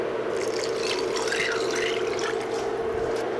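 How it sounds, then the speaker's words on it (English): Water is poured into a pot of chicken noodle soup, making a steady, continuous splashing and trickling that runs for a few seconds at close range with no talk. "So now I'm gonna add more water here."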